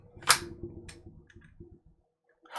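Metallic clicks from loading 5.56 NATO rounds into a rifle magazine and working the action, with the gas block disengaged: a sharp snap near the start, then a run of softer close mechanical clicks that fade to quiet.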